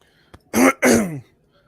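A small click, then two loud, raspy throat-clearing bursts in quick succession, close and harsh, followed by quiet.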